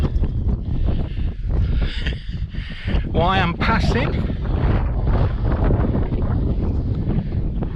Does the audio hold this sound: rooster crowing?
no